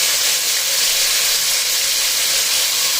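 Tomatoes frying in oil with cinnamon, cloves and cardamom for biryani give a loud, steady sizzling hiss that runs unbroken throughout, with no voices.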